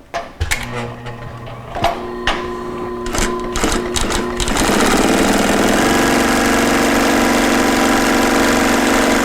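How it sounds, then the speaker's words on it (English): A lightweight leather sewing machine stitches a shoulder strap for an iPad messenger bag, a clutch-motor machine running up to about 2,000 stitches a minute: a few short starts and stops, then a loud steady continuous buzzing run close by. "This is a shoulder strap for one of our iPad messenger bags, and we're just going to sew that up."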